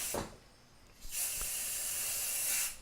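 Spray can of white paint hissing in two bursts, a short one at the start and a longer steady spray of about two seconds, fairly close and alone.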